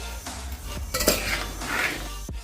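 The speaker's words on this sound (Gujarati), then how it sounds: "હવે આપણે મિક્સ કરી લઈશું." Vegetables and spices are stirred in a pot for veg dum biryani, a metal spoon clinking and scraping against the pot in close, irregular strokes with no voices.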